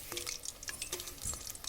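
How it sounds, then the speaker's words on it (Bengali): Pangas fish frying in a pan is flipped over, giving a few quick scrapes and light clinks of the utensil over a faint oily sizzle. "আমি এবার মাছটাকে একটু উল্টে দিচ্ছি।"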